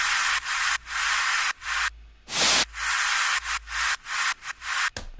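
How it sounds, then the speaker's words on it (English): Gated white noise used as a layer in an electronic music production plays alone as bursts of bright hiss. Longer swells give way to quicker chopped pulses toward the end. "one thing I did do is I added these white noise elements down here"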